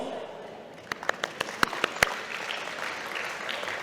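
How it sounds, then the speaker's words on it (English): Audience at a charity esports festival giving a sparse, faint burst of applause, about seven separate claps over a second under a low room murmur. "please give our young talents a big round of applause"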